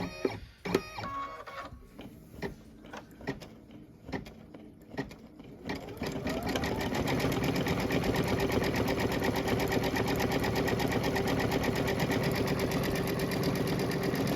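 A sewing machine stitches a Kimberbell Main Street Celebration bench pillow block, starting with short bursts of stitching, then settling into a steady, loud, continuous run. No voices are heard.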